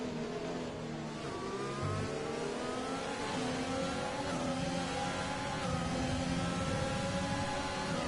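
Several Renault-powered Formula 1 cars race in a video game at a short Bahrain circuit, their engines whining and revving continuously at close range, with layered rising and falling pitches as the cars run together.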